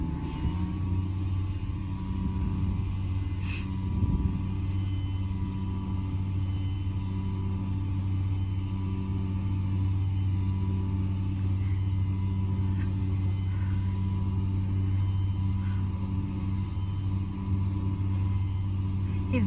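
A Jeep moving along an off-road trail under its own power, its engine giving a steady low rumble and drone that runs throughout with little change, close to the microphone.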